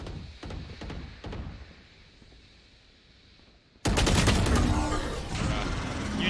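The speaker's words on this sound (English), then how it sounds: "You didn't hear her shooting?" Gunfire in Valorant: a few sharp shots at the start, a quieter stretch, then a sudden loud, sustained automatic burst that dominates the end of the clip.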